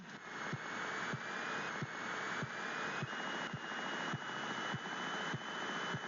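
A light aircraft engine hums steadily at 1700 RPM during a magneto run-up check, heard through a cockpit headset as a muffled drone with a faint regular pulsing thump about twice a second, no talking.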